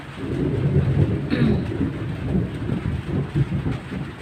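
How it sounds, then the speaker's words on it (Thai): Steady rain falling with a low rumbling roar of thunder that rolls on throughout, loud and continuous, with no talking. "ฝนตกแม่จ้าฝนตกค่ะ"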